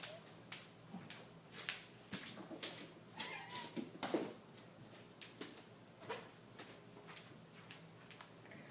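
A house cat meows repeatedly indoors, short cries spaced irregularly every second or so, moderately close but not loud, with faint household clicks between them.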